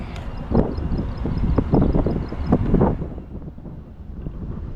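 Wind rushes across the microphone in rough, rumbling gusts, with faint high beeps early on before the noise eases.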